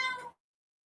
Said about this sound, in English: This daggone cat is driving me crazy.